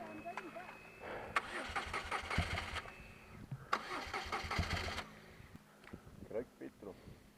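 Motorbike engine cranking and catching as it is push-started, bursts of rough engine noise lasting about a second each, with people talking nearby throughout.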